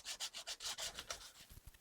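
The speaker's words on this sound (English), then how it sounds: "any edges that are still producing burrs, we can give them a light sanding" Light sanding on a hand-carved wooden dog lamp, smoothing burred edges: rapid, rhythmic rubbing strokes of abrasive on wood, close and fairly quiet, a steady back-and-forth with no voices.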